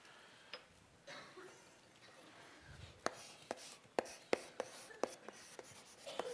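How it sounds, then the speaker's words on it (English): Chalk or marker writing on a board during a multivariable calculus lecture: quiet scratching at first, then a run of sharp taps and strokes as symbols are written, fairly close in a quiet room with no speech. "So let me just write that down for,"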